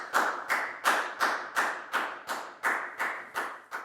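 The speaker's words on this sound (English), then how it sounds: "High five and a big round of applause for Prel" Single pair of hands clapping in a classroom, about eight sharp evenly spaced claps with a slight echo after each, close and clear.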